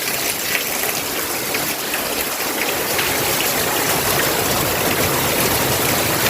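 Steady rushing of flowing rainwater, a continuous broadband gush like a running stream, close and constant.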